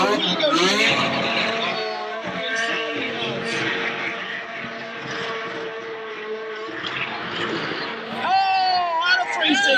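A Nissan S15 drift car on track roars at high revs and its tires squeal in long, wavering screeches, loud and continuous, under an excited commentator's voice.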